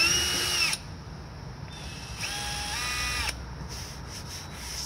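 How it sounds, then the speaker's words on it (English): A power drill bores pilot holes into a Toyota Tundra's front bumper for a license plate bracket, a steady whirring motor whine with pitch shifts as the bit bites and runs freely. "And you want to go in straight with the drill."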